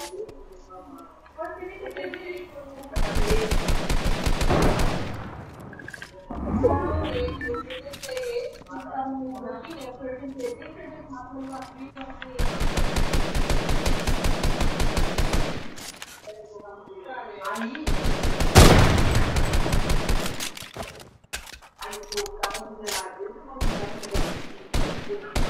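Rapid gunfire in an arena match of a video game comes in three sustained bursts lasting several seconds each, with people talking in the gaps between them.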